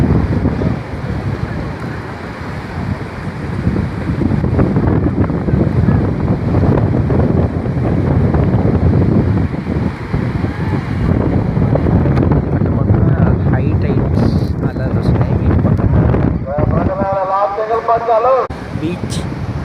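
Rough sea waves roll onto Rushikonda Beach in Visakhapatnam: a continuous loud roar of surf mixed with heavy wind buffeting the microphone, with a brief whistle-like tone near the end and voices in the background.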